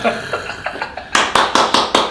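Rapid applause-like claps, a run of about five sharp bursts in the second half, preceded by softer taps and a vocal sound, close and fairly loud.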